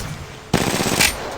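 Gunfire in the shooter game Apex Legends, a sudden loud burst of rapid automatic shots that continues steadily for about a second, preceded by quiet ambience.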